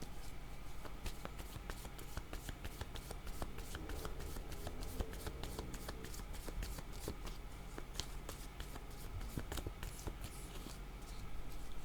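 A deck of cards shuffled by hand, repeated crisp riffling flutters and soft slaps in quick bursts, close and fairly quiet, with no talking.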